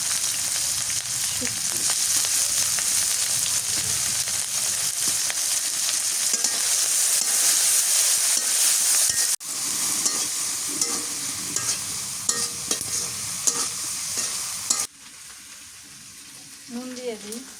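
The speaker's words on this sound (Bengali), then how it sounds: "এখন কাঁকরোল ভাজি করি, সরিষার তেল দিয়ে দিই।" Teasel gourd fries in mustard oil with chopped onion and green chili, a loud steady sizzle with stirring scrapes that breaks off abruptly twice and comes back quieter, a voice speaking briefly over it.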